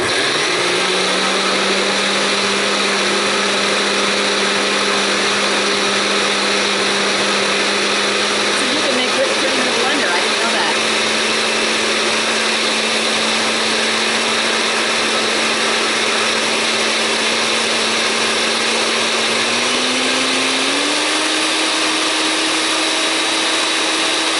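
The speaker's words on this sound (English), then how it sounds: "I did not know you can make whipped cream in a blender." A blender whips cream for a lime cake, giving a loud, steady motor whir that runs throughout and rises slightly in pitch toward the end.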